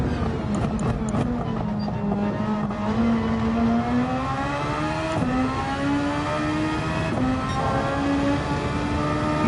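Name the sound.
Super Formula race car engine in Gran Turismo 7 video game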